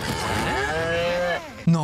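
An animated cow in a cartoon milk commercial lets out a single drawn-out moo with a sliding, wavering pitch, loud and close, ending in a short abrupt sound.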